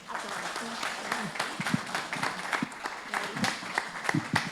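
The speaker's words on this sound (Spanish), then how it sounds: "un aplauso por favor" Applause from an audience at a violence-prevention workshop gathering, moderately faint and uneven with individual claps standing out, mixed with murmuring voices.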